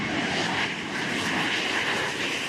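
Fighter jets, including a Tejas, roar overhead during a multinational air exercise, a loud continuous broadband rush that fills the whole moment with no speech.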